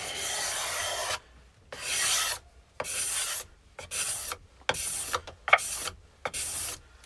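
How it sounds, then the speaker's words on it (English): A cabinet scraper worked over an epoxy side table, giving about seven close, rasping strokes in a steady rhythm with short pauses between, heard alone. "we're simply just gonna cabinet scrape this up"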